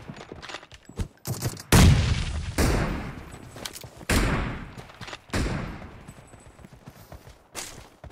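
Gunfire in a video game crackles in repeated close bursts, each loud report fading out before the next, spread across the whole stretch.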